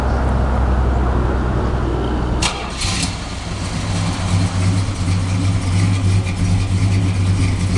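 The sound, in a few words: 1965 Plymouth Sport Fury Mopar big block engine running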